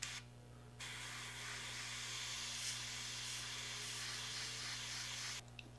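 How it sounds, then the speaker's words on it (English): An airbrush sprays modern Italian sky gray paint and hairspray onto the stack of a 1/72 U9 U-boat scale model, a steady close hiss running almost unbroken for several seconds before stopping. "the stack has been sprayed with some modern Italian sky gray and some hairspray"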